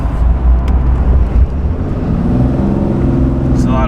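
A 2021 RAM 3500 HD Tradesman Cummins diesel pickup accelerates through traffic at around 30 mph, a loud low engine drone with a faint rising turbo whistle near the end.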